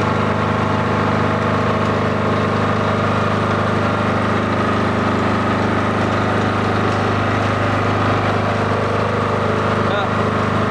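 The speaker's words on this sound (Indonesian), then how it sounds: "genset masih melakukan pemanasan" A diesel generator set warming up runs as a loud, steady engine drone with a constant low hum, continuous and unbroken throughout, close by and alone.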